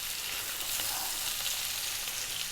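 Whole chilies sizzling in hot oil in a pot while cooking Chinese brisket soup, a soft, steady crackling hiss that continues quietly and evenly on its own.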